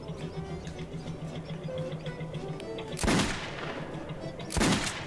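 Two loud single gunshots from Metro 2033 Redux ring out about a second and a half apart over a steady low background hum.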